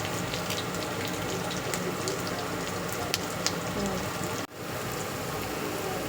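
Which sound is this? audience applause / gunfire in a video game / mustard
mustard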